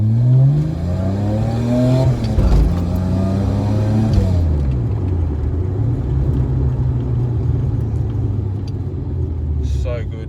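Loud cabin drone inside an R31 Skyline with an RB30 straight-pipe exhaust and no rear seats, with tire and differential roar from the rear, engine pitch sweeping up and down under someone talking throughout.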